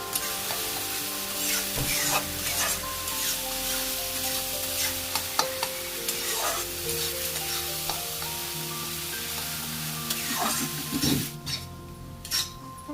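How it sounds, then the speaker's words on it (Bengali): Tomato and spice paste frying in oil for a traditional rohu fish curry, stirred steadily with a spatula, with a continuous close sizzle, scraping strokes and occasional clinks of the utensil against the pan. "এই মশলা থেকে তেলটা না বেরিয়ে আসছে, ততক্ষণ পর্যন্ত আমি এটা কষাতে থাকবো।"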